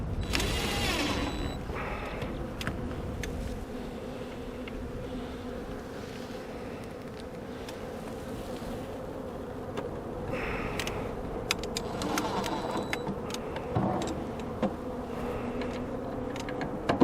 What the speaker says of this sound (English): there's still quite a few bees flying around, landing on the box, trying to figure out where to go